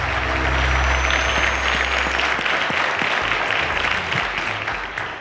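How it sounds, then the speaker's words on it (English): A studio audience at a televised math quiz show applauds the contestants, a loud, dense and sustained burst of clapping with a low hum underneath that tapers slightly at the end. "A round of applause to our contestants again."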